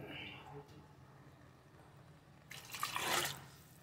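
Water splashes and gushes briefly toward the end, a short pour after a quiet stretch with low background hum.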